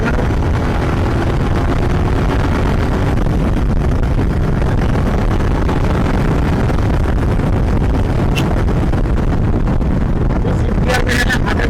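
A Royal Enfield Continental GT650 motorcycle running hard in fifth gear, its engine a constant loud roar buried in strong wind buffeting, with a few sharp clicks near the end.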